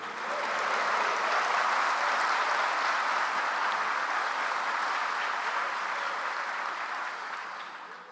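A church congregation applauds, a dense, steady wash of clapping from many hands that holds evenly for several seconds before tapering slightly at the end, with no talk over it.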